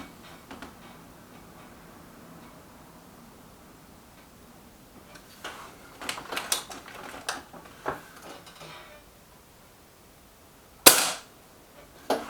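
Air rifle shots from a Benjamin Akela during target shooting, a few sharp cracks spread apart, with one louder, crisp report standing out near the end against quiet background.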